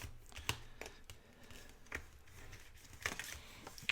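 Paper card stock being folded back and creased by hand for a no-glue envelope card, heard as faint, sparse crisp clicks and rustles in a quiet room.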